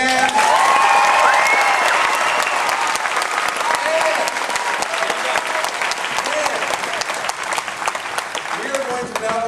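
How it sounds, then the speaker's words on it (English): A theme-park studio audience at the last show of Who Wants To Be A Millionaire - Play It! at Disney's Hollywood Studios gives loud, sustained applause with some cheering for the show directors and managers, with faint crowd voices mixed in. "give them a big hand"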